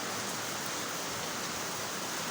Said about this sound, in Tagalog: Ay, lakas na naman ang ulan.